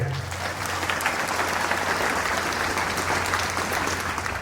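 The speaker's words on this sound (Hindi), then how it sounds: "एक बार हम लोग जोरदार ताली बजाएंगे।" Loud, sustained applause from a church congregation at a priest's ordination, a dense steady wash of clapping with a low hum underneath.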